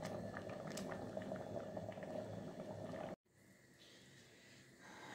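Rice simmering in a pot of water for Turkish rice pudding, a steady close bubbling hiss that cuts off abruptly partway through, then resumes more quietly.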